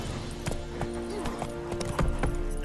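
Horses' hooves clip-clopping in The Witcher 3, a steady run of sharp, close hoof clops over a low background, with a voice faintly underneath.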